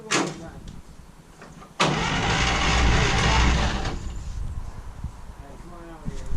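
A 1956 Chevy 3800 truck engine cranking over during restoration, a loud, close, rhythmic churning of the starter that runs for several seconds, with people talking before and over it.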